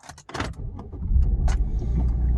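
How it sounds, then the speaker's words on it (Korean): A car engine cranks and starts after a few clicks and clunks, then settles into a steady, loud idle with raised revs close by. "시동을 겁니다."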